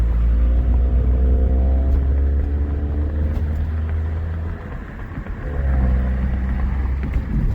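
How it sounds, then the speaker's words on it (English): Smart Fortwo engine breathing through a new ram air intake, a loud steady rumble from inside the car that dips briefly mid-run, then surges back with rising revs. "this is its maiden voyage since we got the new intake on there, and it just sounded too cool"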